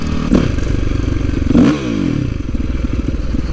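A Yamaha YZ450 dirt bike engine revs hard and close, its buzzing drone climbing in pitch twice, then dropping back and settling into a steady rumble.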